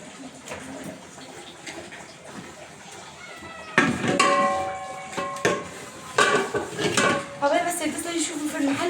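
Dishes, pots and pans being scrubbed and washed by hand in a home kitchen, with clinking metal and ceramic, running water and scraping, growing louder and busier partway through; no talking.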